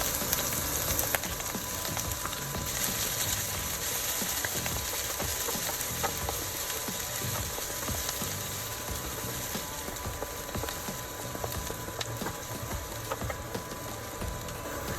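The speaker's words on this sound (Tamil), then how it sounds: "வெங்காயம் நல்லா வதங்கிடுச்சு." Finely chopped onion frying with garlic in a pan gives a steady, even sizzle that crackles softly and continuously throughout, close and moderately quiet, with no voices.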